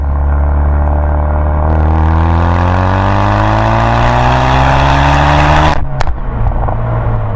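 A Ford Focus RS Mk3 with a Mountune V3 cat-back exhaust accelerating at part throttle, the loud engine note rising steadily through a gear before a sharp break near the end, close and dominant with no talk.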